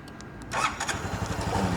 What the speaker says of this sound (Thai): เดี๋ยวมาสั่งสตาร์ทที่รีโมทให้ดูนะครับ กดสายฟ้าสองครั้ง